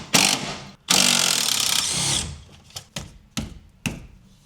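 Power tool spinning out 14 mm brake caliper bolts on a 23-year-old Subaru Impreza WRX bugeye: two long loud whirring bursts, then several short sharp clanks and buzzes of the tool and metal, close up, with no talk.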